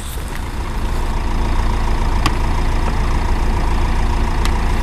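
A van engine idles nearby with a steady, loud low rumble and a few faint clicks, with no talk over it.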